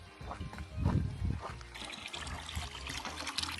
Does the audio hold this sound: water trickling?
yes